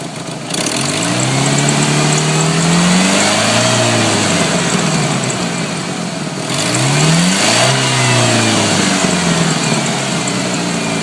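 A 1989-1992 Ford Ranger engine revving slowly from idle, climbing in pitch and easing back down twice, loud and close with a steady mechanical hum throughout.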